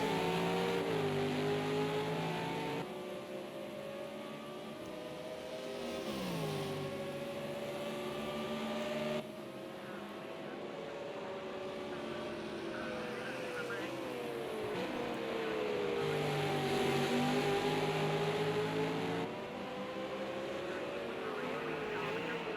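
V8 Supercars racing around the Hockenheim circuit in a simulated endurance event, engines revving and shifting through gears as cars pass, loud and continuous, with a commentator talking over the engine noise.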